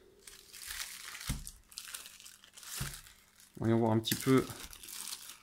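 Thin cardboard cards from the Underwater Cities board game are handled up close, giving a few soft taps and a burst of crinkling and rustling, with someone speaking quietly in between.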